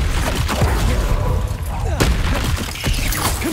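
A Confringo fire blast spell goes off in Hogwarts Legacy, with booming explosive bursts and crackling impacts under dense game noise and a voice.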